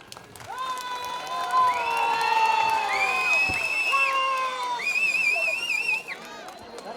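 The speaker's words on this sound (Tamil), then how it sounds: "ஆனா கரகோஷமே பத்தல." A crowd at a school annual day function cheers loudly with whistles, whoops and clapping, a dense mix of sound that fades sharply after several seconds.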